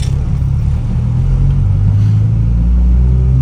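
A Honda Integra DC2 engine revs steadily in second gear, a loud, continuous low rumble with rising pitch heard from inside the car, no talking.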